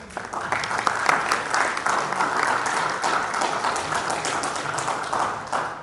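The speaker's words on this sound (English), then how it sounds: "Please let me applaud him." An audience at an economics and management sciences faculty symposium claps for the dean, a dense, lively round of many hands clapping at moderate distance, with sharper individual claps standing out throughout.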